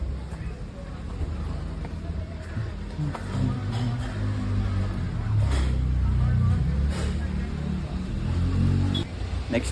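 Vehicles rumble at low, steady volume while being parked in an outdoor lot in Goa, with engines idling and moving under ongoing talk.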